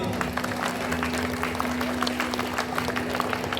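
Audience applause at a Gloria 2024 costumed stage show, a dense patter of many hands under a steady low musical hum, moderately loud and continuous without any voices.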